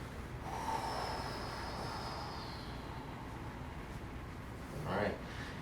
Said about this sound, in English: Exhale and fold.